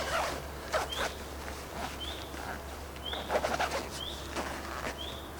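Zip on the entrance of a Terra Nova Saturn hooped bivvy, heard as several rasping pulls close by, with birds chirping repeatedly in the background.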